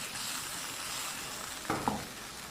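Pieces of meat sizzle with mixed vegetables in a pan, a soft, continuous frying hiss with a brief stirring clatter near the end.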